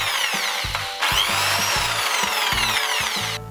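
A power drill spinning a saw-blade jig whirs in bursts, spinning up and stopping repeatedly, with a loud sustained grinding spin in the middle.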